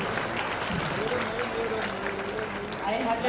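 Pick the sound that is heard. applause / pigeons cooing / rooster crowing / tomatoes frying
applause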